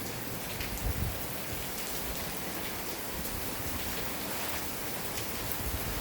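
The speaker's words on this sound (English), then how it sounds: "come and enjoy the rain" Rain falls steadily outdoors, a soft, even hiss of drops that continues without a break and is quite faint overall.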